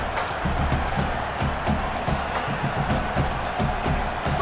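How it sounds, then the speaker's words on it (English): A home stadium crowd in the EA Sports College Football 27 video game cheers steadily, a dense continuous roar of many voices with occasional whoops, sustained without pause. "this home crowd getting involved right from the start."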